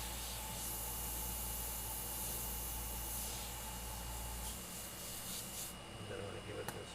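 An airbrush sprays paint onto a custom-painted aviator skull design, a steady close hiss that holds for several seconds and then shifts and thins near the end.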